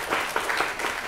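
An audience applauding at a talk on curating culture at the Polin Museum, a short burst of brisk, steady hand clapping from a nearby crowd with no voices over it.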